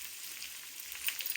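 Chicken curry sizzles in a pan just after mint leaves go in, a faint, close, hissing crackle with small pops, steady and quiet with no voices.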